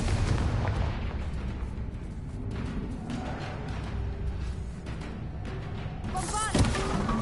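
Confringo explosive spell cast in Hogwarts Legacy on PS5, a dense rumbling burst of blasts and booms sustained throughout, loud and close, with a sharper crack near the end amid game sound.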